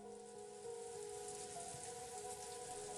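Steady rain in the visual novel Umineko When They Cry, an even hiss of falling water that stays constant, with a faint sustained musical tone underneath and no voices.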